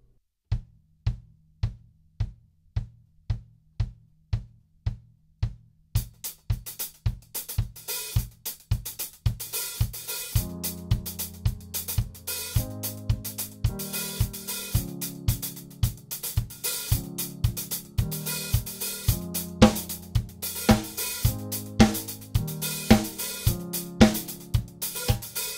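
A cover version of a song plays as electronic music: a sparse, steady repeating pulse builds, then full chords and beats join in a steady groove, alone without talk.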